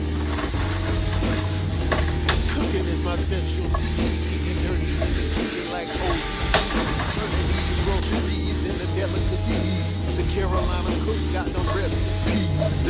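Carrot, garlic and broccoli sizzle and stir-fry in a hot pan for Asian-style salmon bites, a continuous close hiss broken by scraping and tossing sounds, with brief low background noise.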